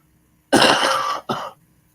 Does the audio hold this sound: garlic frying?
no